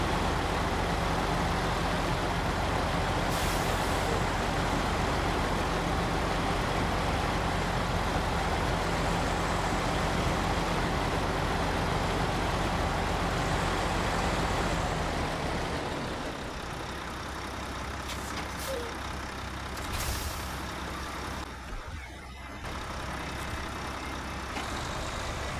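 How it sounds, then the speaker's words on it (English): A truck engine runs loud and close, a steady low drone as the truck is driven forward a short way, easing to a somewhat lower level partway through. "I'm going to move this truck up a little ways"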